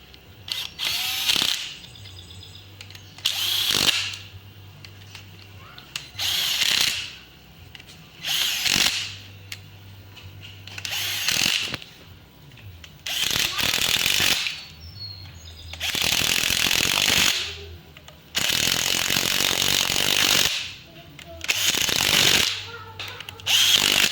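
Power drill or impact tool driving cylinder head studs into a Ford 5.0 small-block with Flo-Tek 190cc CNC aluminum heads, running in repeated short bursts with pauses between, close and loud, ratcheting whir.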